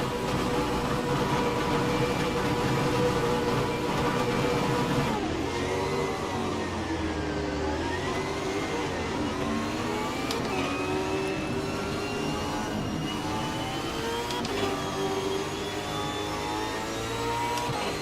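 Race cars in Assetto Corsa launch from the grid at Tamiami Park, a dense blend of engine notes rising and falling in pitch as gears change, loud and continuous with no speech.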